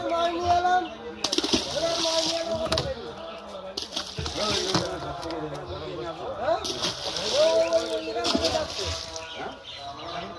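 Fish are tipped into a pond with repeated splashing and sloshing of water, close by, while people talk over it and a rooster calls in the background.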